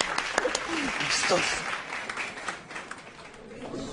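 Scattered audience applause at a stand-up comedy show, loose and uneven claps rising and thinning, with a voice speaking over part of it.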